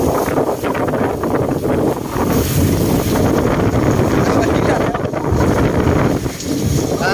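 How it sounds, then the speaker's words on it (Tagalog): Strong wind from an incoming typhoon in Manila roars and buffets the microphone continuously, a loud broadband rush with gusts rising and falling throughout. "Lakas ng hangin."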